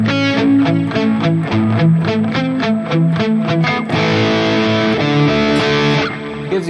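Electric guitar played through a Valeton GP-200 multi-effects unit with its distortion switched off, a run of evenly spaced picked chords followed by a sustained, ringing strum, loud and close with no talking.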